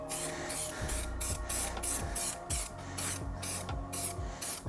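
Aerosol primer sprayed onto a Mini Cooper car part in rhythmic short hissing bursts, about nine blasts in steady succession with a faint clatter between them, close and alone.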